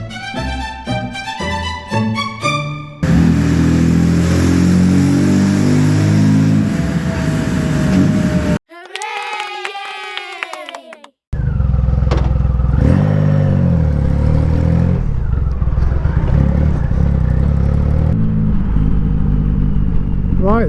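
A motorcycle rides around Wokingham after a dyno session, with loud, continuous engine roar and rising, falling revs, a brief quieter gap midway, and a musical passage at the start.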